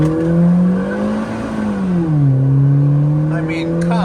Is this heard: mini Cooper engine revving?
yes